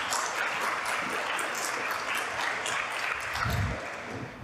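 An audience applauds at a lecture, with steady, dense clapping running throughout at moderate volume and no voices over it.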